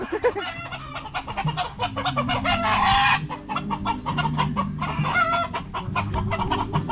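Frightened chickens clucking and squawking continuously, fairly close and loud, with a flurry of agitated calls midway and scattered background noise.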